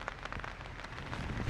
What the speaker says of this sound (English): the rain is making it feel colder